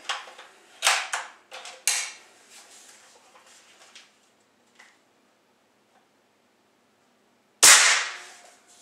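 Benjamin Bulldog air rifle firing, a single sharp loud crack near the end after a stretch of faint clicks and handling noises, heard close and without talk.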